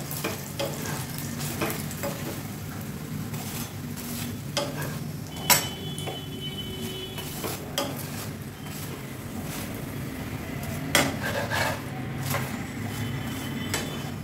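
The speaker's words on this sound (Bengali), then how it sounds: "দুদিকে এক চামচ করে দিলাম, তাহলে সুন্দর ভাজা হয়ে যাবে" Aloo paratha frying in oil in a pan over lowered heat, a quiet, steady sizzle with occasional sharp scrapes and clicks of the spatula, close but soft, with no talk.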